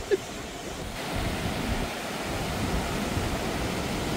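A rushing river in Yosemite National Park gives off a continuous broad roar of moving water, loud and near, with gusts of wind buffeting the microphone.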